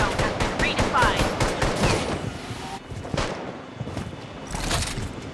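Rapid automatic gunfire bursts fill a squad firefight in the video game Blood Strike, loud and close with dense overlapping shots, thuds and a short lull before more firing resumes.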